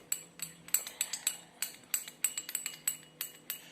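A thyme oil mixture is stirred in a container, producing a run of quick, bright metallic clinks and taps at an irregular rhythm, close and distinct with no talk.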